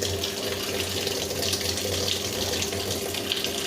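Hot water poured steadily into a container for a washing-machine cleaner, a continuous close splashing rush with no break throughout.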